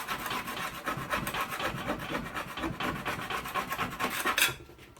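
Coarse sandpaper scrubs hard over a heavily rusted steel paella pan in steady, rapid back-and-forth rasping strokes, close and loud, stopping abruptly near the end.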